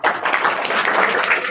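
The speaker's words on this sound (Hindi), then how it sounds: "सेकंड स्थान है अमित के लिए तालियां बजा दो।" Audience applause at a school farewell ceremony for 10th and 12th classes, as student Amit is honoured for second place: dense, steady clapping from many hands, sustained loudly throughout.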